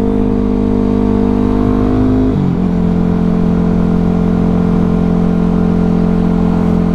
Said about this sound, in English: she was accelerating between turns, and then braking before she entered, and then accelerating out of the apex